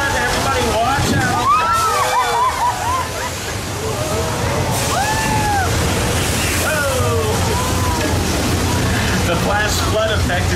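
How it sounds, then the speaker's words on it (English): Thousands of gallons of recycled water released from hilltop tanks as a flash flood effect on a studio tram tour, a continuous loud rushing and sloshing surge with crowd voices and excited shouts over it throughout. "The flash flood effect is created by releasing thousands of gallons of recycled water from tanks at the top of the hill."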